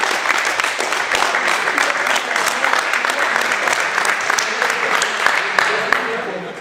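An audience at a podium award ceremony applauds continuously, a dense sustained clapping that stays fairly loud from start to finish.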